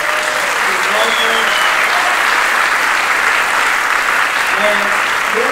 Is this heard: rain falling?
no